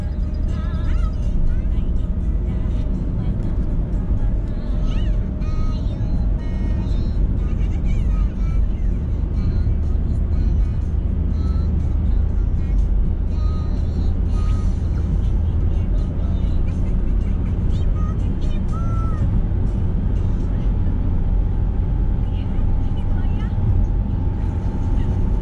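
A Toyota Calya with an automatic transmission accelerates while driving on the road, its engine and road noise forming a steady, continuous drone beneath someone talking.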